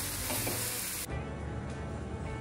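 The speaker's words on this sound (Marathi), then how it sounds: "त्याला असं ब्राऊन कलर होईपर्यंत फ्राय करणार आहे मी" Chopped onion and tomato frying in oil in a pan until browned, giving a steady, dense sizzle with stirring, which cuts abruptly to a slightly quieter sizzle partway through.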